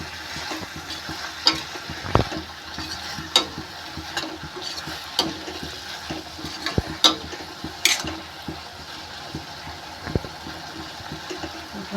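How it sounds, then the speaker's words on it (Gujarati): A spoon stirs vegetable curry (patrali sabzi) in a pan, making irregular close scrapes and knocks over a low, constant simmering hiss. "ગેસ આપણે ખાસ રાખીશું અને એને હલાવીશું"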